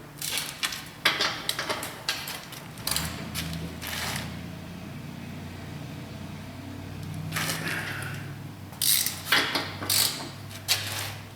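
A ratchet with a large 17 mm socket clicks in short bursts while working on a Honda S2000 clutch replacement, with pauses of quieter shop hum between runs of close, crisp ratcheting.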